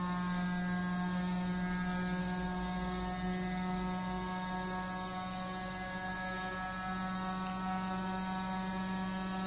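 A battery-powered test motor rated up to 12,000 RPM, running at roughly 8,000 to 9,000 RPM, holds a steady tonal whine and hum with layered harmonics, close and continuous with no talk.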